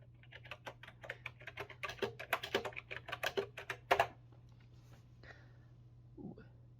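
Quick keystrokes on a Commodore 64 keyboard come in a close, steady run of clicks that thickens into a dense burst, then thins to a few isolated taps after a pause. No voices are heard.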